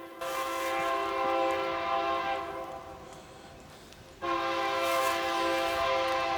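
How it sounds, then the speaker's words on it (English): A passing train sounds its horn in long steady blasts that hold through most of the stretch, with a brief dip before the horn swells loud again, all heard from a roadside near a Jaguar XJ-SC. "Oh, we got a train."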